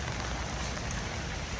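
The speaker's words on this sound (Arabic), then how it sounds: "شدتنا الشتا" Steady rain pours down outdoors in the Netherlands. The hiss is dense and even and fills the whole moment, with no voices.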